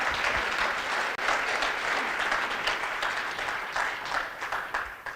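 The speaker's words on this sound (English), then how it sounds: "Let's do a round of applause for our presenters." Sustained audience applause for presenters at a crocodile conservation conference session, a dense steady wash of many hands clapping at full level throughout, with no speech over it.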